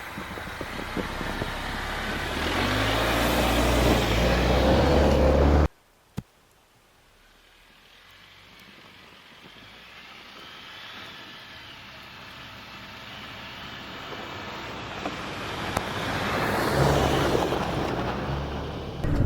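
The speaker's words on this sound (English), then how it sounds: "I'm just going to drive a little bit here and try to give you a good idea of how the traction is with these Goodyear Wrangler tires." A vehicle on Goodyear Wrangler tires drives slowly along a snowy road, giving a steady cabin rumble of engine and tire noise that drops off abruptly, then builds back up gradually.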